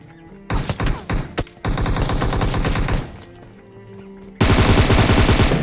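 Gunfire rattles in the PUBG video game, with rapid automatic bursts in several loud clusters separated by short pauses and a final sustained volley, with no talk over it.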